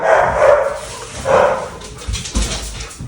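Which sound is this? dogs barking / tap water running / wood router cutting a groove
dogs barking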